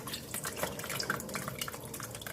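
Whey drains from mozzarella curds in a tilted colander, a steady close trickle with quick dripping splashes and no pauses.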